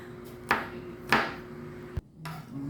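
A knife slices spices on a board while a cook prepares banana heart with sardines, giving two crisp, close chopping strikes followed by a duller thud, with quiet kitchen ambience around them.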